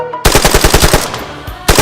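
Militants fire automatic weapons inside a house during an attack on Kashmiri Pandit homes: a rapid, loud burst of close shots for over a second, a brief lull, then another sharp shot.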